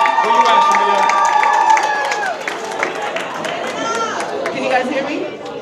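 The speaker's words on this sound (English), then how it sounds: "let's give a round of applause for Shalia" An audience at a summer jobs program awards event claps and cheers for an award recipient, a dense burst of hand claps mixed with whoops and crowd chatter, with voices talking over it throughout.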